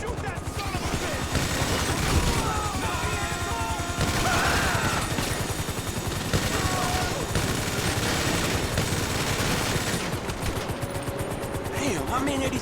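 Rapid gunfire in GTA 5, dense continuous bursts of automatic shots crackling loudly and nearly without pause, mixed with crashes and occasional voices.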